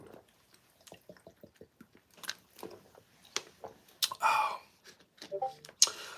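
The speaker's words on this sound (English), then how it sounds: "Let me take a sip of water here." A person sips water close to the microphone, with a series of small wet mouth clicks and swallowing sounds followed by louder slurping gulps near the end.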